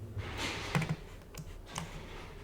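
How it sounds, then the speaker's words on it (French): Faint computer keyboard key presses during compositing software work, a few soft isolated clicks heard close in a quiet room. "j'appuie sur Tab"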